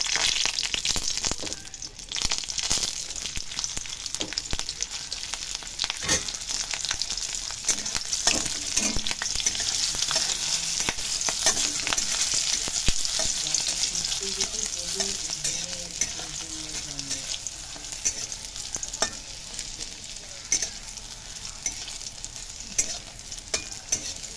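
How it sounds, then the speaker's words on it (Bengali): Green chillies frying in hot oil for a Bengali-style flat bean bharta, a steady close sizzle with scraping stirring throughout and no voices. "এবার আগে দিয়ে দিচ্ছি আমি লঙ্কাগুলো, লঙ্কা ভেজে তুলে নেব"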